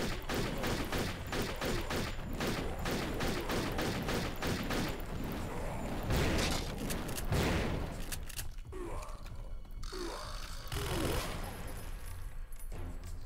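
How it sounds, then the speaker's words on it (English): Rapid pistol fire in the shooter game Turok 3, a dense run of sharp shots for several seconds that thins into scattered bursts, with a player occasionally talking over it. "I gotta get some use out of this pistol"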